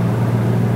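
A Nissan Datsun L30 straight-six with triple Mikuni 44PHH carburettors and a lumpy cam, running at a steady, loud, close drone, with no voices over it.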